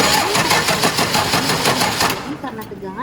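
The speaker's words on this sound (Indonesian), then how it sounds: "Ketika kontak diputar, starter bergerak pelan dan mesin tidak mau hidup." A heavy-equipment starter motor cranks slowly on a weak battery without the engine catching, a rapid, even chug of repeated pulses that fades out near the end.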